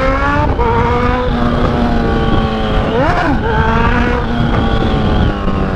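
A Honda CB1000 motorcycle holds a loud, sustained engine note during a wheelie, the pitch briefly climbing and falling mid-way as the throttle is blipped, close and continuous with no speech.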